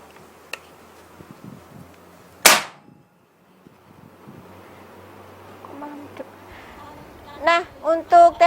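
A single sharp gunshot-like crack from a Pasopati Big Game air rifle cuts through quiet background noise, followed by a few short clicks and bursts of voice.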